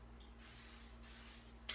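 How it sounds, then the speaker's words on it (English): Cooking spray hisses into a pan in two short bursts, a longer spray followed by a second one, close and steady over a low hum. "a little bit more cooking spray in the pan"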